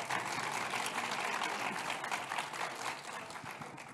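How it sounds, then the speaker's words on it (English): Sustained audience applause fills a conference hall as panel guests, a startup founder and an investor, are welcomed at a tech event; dense, steady clapping from many hands that fades slightly toward the end. "Round of applause, please."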